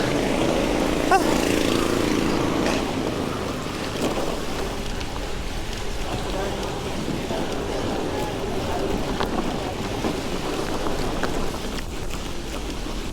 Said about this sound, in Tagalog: Ito ang lakas ng headwind.